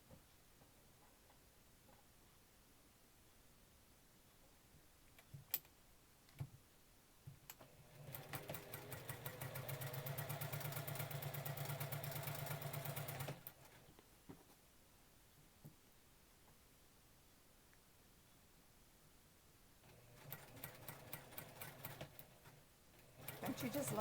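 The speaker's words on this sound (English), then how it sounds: "So we'll start by sewing these triangles together." A sewing machine joins small quilt fabric triangles for a snowball-variation block. It makes two separate quiet whirring runs, one about five seconds long and a shorter one later, with near silence between.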